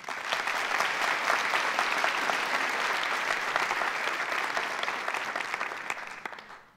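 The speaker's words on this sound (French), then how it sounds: "je vous demanderai d'applaudir une nouvelle fois" Audience applause at an evening pleading contest, dense and sustained from a large crowd, steady for several seconds before tapering off at the end.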